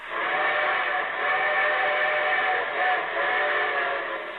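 A long, loud steam train whistle blowing steadily with a slightly wavering pitch and a touch of echo.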